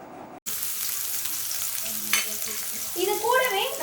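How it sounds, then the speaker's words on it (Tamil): Onions sizzle steadily in a pan as they fry toward brown, a dense continuous hiss with a brief sharper crackle partway through and brighter spattering near the end, close and fairly loud. "வெங்காயம் எல்லாம் நல்லா ப்ரௌன் கலரில் ஃப்ரை ஆகி வரணும்"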